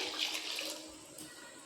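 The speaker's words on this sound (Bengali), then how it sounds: "কড়ার মধ্যে দুধটা দিয়ে দিলাম" Liquid milk is poured into a kadai cooking pan, making a soft, steady splashing stream that stays faint and continuous throughout, with no talking.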